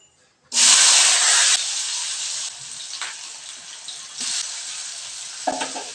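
Potatoes drop into hot oil for a paneer curry, setting off a sudden loud, bright sizzle that eases into a steady close hiss, with a few stirring bumps and surges.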